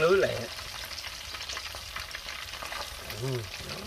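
Catfish frying in oil in a pan, a steady crackling sizzle running throughout at close range, with brief voiced sounds at the start and near the end.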